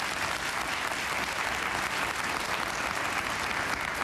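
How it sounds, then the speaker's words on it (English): Sustained applause from a television talk show studio audience, dense and steady at full volume throughout, with no voices over it. "I want to applaud her right now for her strength and her courage for even coming on the show"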